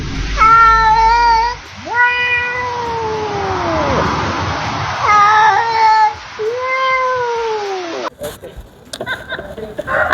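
A domestic cat meows loudly and close up, giving several long, drawn-out, wavering meows with short pauses between them, followed by a brief burst of scuffling noise at the end.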